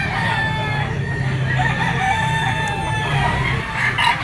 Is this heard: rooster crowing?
yes